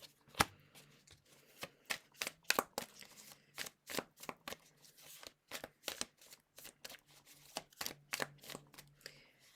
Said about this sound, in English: I'm just going to pull another couple of cards just to really confirm what we're seeing here